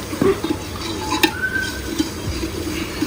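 Tadka tempering with kasuri methi on a stove, stirred in a pan: a soft sizzle under repeated scraping and clinking of a spoon against metal, close by, with no talk.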